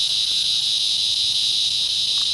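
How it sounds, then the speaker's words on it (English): Cicadas buzz on a golf course at dusk in a loud, steady, high-pitched drone that does not let up. "The cicadas are out"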